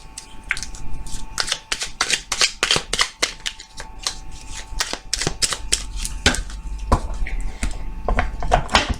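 Oracle cards for a tarot-style angel card reading are shuffled close up in a dense run of crisp, rapid riffling snaps and slaps that continue steadily throughout, with no talking.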